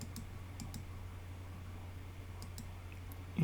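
A computer mouse clicks in a spreadsheet program with sharp, isolated clicks, two near the start and two more about two seconds later. They sound close and fairly faint over a low steady background hum.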